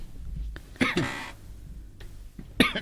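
A couple of close coughs, one burst near the start and another at the end, separated by quiet room noise.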